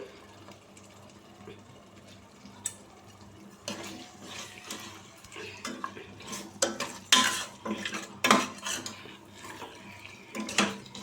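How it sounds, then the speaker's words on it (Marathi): Chicken pieces being stirred with salt in a pan for a masala chicken curry, with intermittent scraping and clinking of a spoon against metal, growing louder and busier after the first few seconds, close up with no talk. "चांगले परतून घेऊया मीठ घालून मीठ सगळीकडे आपले सारखे लागले पाहिजे"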